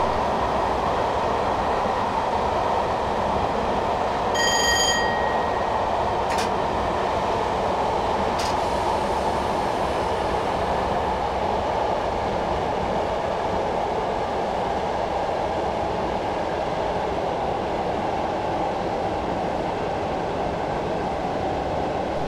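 A Class 421 electric train braking on approach to Burgess Hill platform in Train Simulator 2015, with a steady rumbling rolling noise, brief high tonal squeals and clicks early on, and no talking.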